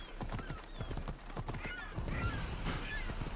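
Horse hooves clip-clop at a steady gait in the video game Assassin's Creed Odyssey, with a whinny rising over the galloping rhythm, close and fairly loud against the game's ambient background.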